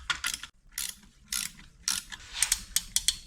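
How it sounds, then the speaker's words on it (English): Brake caliper compression tool ratcheting on a part from a 2016 Subaru WRX, a series of sharp, close clicking ratchet bursts in irregular short groups, with no talking. "So this is a brake caliper compression tool, and I want to see if that'll start to separate this."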